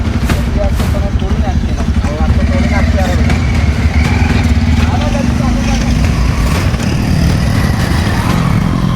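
A motorcycle engine rumbles steadily throughout, loud and close, with people talking over it.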